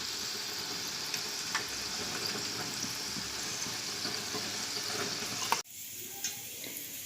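Potatoes crackle and sizzle steadily in hot oil, a dense close frying hiss that drops abruptly quieter near the end as they are lifted out.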